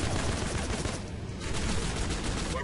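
Gunfire in the Rogue Trooper video game rattles in a dense, continuous automatic barrage, loud and steady throughout with no talk.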